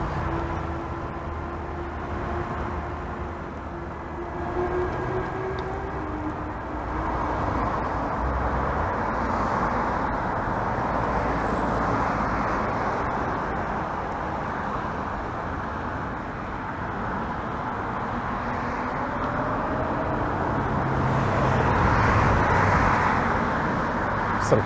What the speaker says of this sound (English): Some cars absolutely flying.